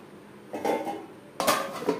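A lid is set onto a cooking pot of chicken ghugni, giving two short metallic clanks about a second apart, close and fairly clear over a quiet kitchen background.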